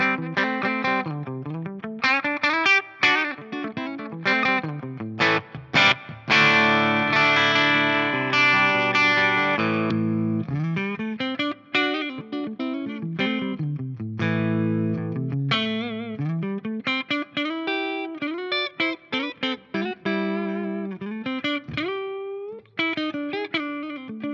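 Marshall JVM guitar amp on channel 1 green mode with the bridge pickup, controls around one o'clock, playing a loud, slightly breaking-up electric guitar riff with sustained chords and quick single-note runs, steady and close throughout.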